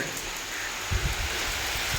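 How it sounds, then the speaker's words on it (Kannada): Rain falling at a riverside temple by the Tunga river, steady broadband hiss of drops with a few louder low thumps near the microphone, continuous and fairly close. "ನೋಡಿ ಮಳೆ ಬರ್ತಾ ಇದೆ"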